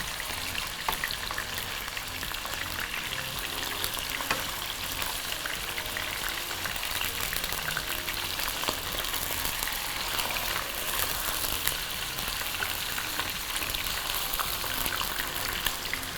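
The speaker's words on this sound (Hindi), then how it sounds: "और ज़रा इसको हम अच्छी तरह से फ्राई कर लेंगे" Chicken sizzles steadily as it fries in oil in a pan, a dense crackling hiss that holds without pause from start to finish, close and fairly loud, with no talking over it.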